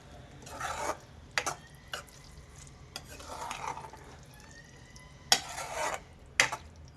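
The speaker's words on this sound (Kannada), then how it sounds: "ನಿಧಾನಕ್ಕೆ ಇದನ್ನು ಮಿಕ್ಸ್ ಮಾಡಿ." Okra is stirred with masala in a pan, giving soft scraping and rubbing strokes in irregular bursts with a faint sizzle underneath, close and fairly quiet, with no talking.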